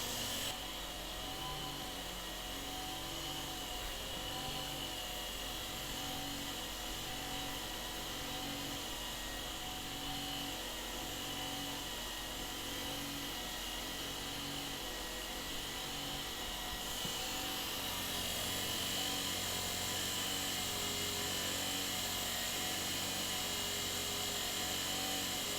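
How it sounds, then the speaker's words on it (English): Milling machine climb milling an 8-foot steel bar, a steady sustained cutting drone with gritty high grinding and a faint rhythmic pulse running throughout, close and continuous with no talk. "That climb milling sure works well."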